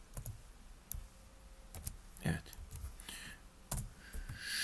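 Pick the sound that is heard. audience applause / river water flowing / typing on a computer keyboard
typing on a computer keyboard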